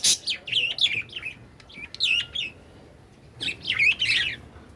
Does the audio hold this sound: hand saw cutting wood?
no